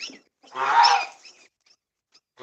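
A single loud, harsh Canada goose honk rings out, followed by a few faint short calls in an otherwise quiet nighttime setting.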